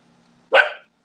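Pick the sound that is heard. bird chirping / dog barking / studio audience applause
dog barking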